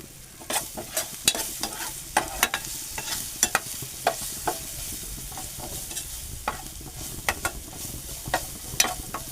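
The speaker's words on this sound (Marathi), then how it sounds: "आपण आता कांदा चांगला परतून घेऊ" White onion stirred and sautéed in a pan, with scattered spoon scrapes and clicks over a low, steady sizzle, close and moderately loud, with no talking.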